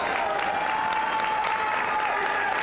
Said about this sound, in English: Paul Nemesco, one of the parents, getting everybody cheering here